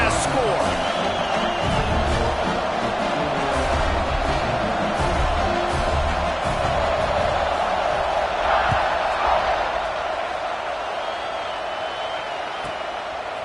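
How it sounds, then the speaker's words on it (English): Stadium crowd buzzing after a score in an NCAA college football video game, a steady roar of cheering that continues under a play-by-play commentator's voice and eases slightly toward the end. "this crowd is buzzing after that last score"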